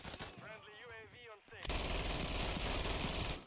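A rapid-firing gun in a shooter game bursts in as a loud, continuous stream of shots that takes over from a quieter stretch with a voice-like tone, then holds steady to the end.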